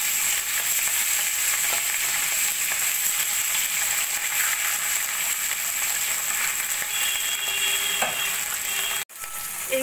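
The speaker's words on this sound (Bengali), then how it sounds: "বাকি মাছগুলো আমি খুবই হালকা করে এপিট ওপিট করে ভেজে নেব।" Hilsa fish pieces fry lightly in oil, a loud, steady crackling sizzle that continues up close and cuts out briefly just before the end.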